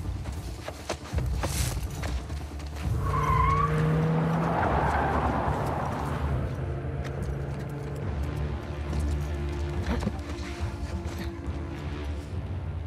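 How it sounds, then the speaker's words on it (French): In The Last of Us Part 2, a car engine rumbles and tires skid amid game ambience, with a brief squeal early on and a steady low engine drone continuing at moderate level. "Quoi ce bruit de voiture là?"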